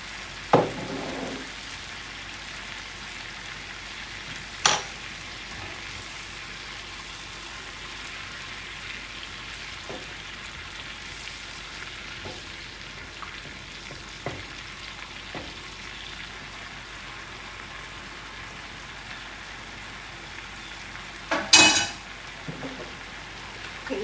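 A honey garlic pork chop sizzles faintly in a pan with honey, giving a low, steady fry hiss broken by a few sharp clinks and a louder clatter near the end.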